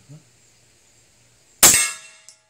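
A single sharp metallic clang rings out close by as a suppressed 9 mm Kimber 1911 pistol round strikes a steel target, the ring decaying over about half a second after a short silence.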